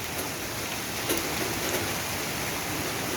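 Steady, even hiss of light rain easing off over an allotment plot, a soft continuous patter with a few faint drips standing out, no voices.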